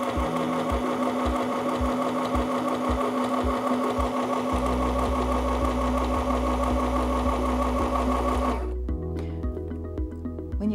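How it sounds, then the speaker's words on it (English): An M1000 sewing machine stitches fabric at a steady, fast, even hum with rhythmic needle ticks, running loud and close for about eight seconds before stopping abruptly. "step on the foot control to begin sewing"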